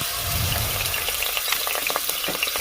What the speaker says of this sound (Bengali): সেই চিংড়ি মাছগুলো দিয়ে দিচ্ছি একটু ভাজার জন্য